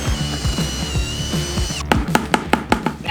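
A cordless drill with a paddle runs at low speed and high torque, mixing concrete and water in a bucket. A steady whine drops off, then gives way to several sharp clunks and ratcheting knocks.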